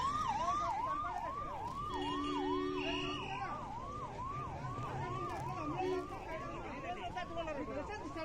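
Ambulance siren wailing steadily in a repeating two-tone rise and fall as it arrives at a factory site, fairly loud and continuous, with other vehicle horns and crowd noise mixed in behind it.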